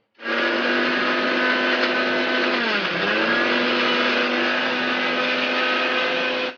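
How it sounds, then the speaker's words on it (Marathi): A kitchen mixer grinder whirs steadily for several seconds, blending green chillies and a piece of ginger into a fine green paste, with a brief dip in pitch midway before it runs on evenly and stops. "मी याची बारीक पेस्ट करून घेणार आहे"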